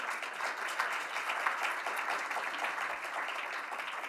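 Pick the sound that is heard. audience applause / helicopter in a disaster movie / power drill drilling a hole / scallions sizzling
audience applause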